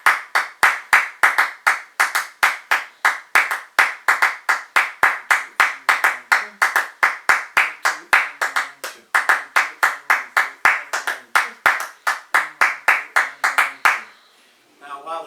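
Rhythmic hand clapping in a traditional pattern of the kind heard across Africa, the Middle East and India, about forty crisp, evenly spaced claps with accented groupings, close and loud, stopping just before the end.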